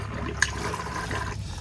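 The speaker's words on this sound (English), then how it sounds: "Press and hold the flush button before you do use the toilet" Toilet flush in an Auto-trail Navajo motorhome cassette toilet: a short click, then a steady run of water into the bowl that stops near the end.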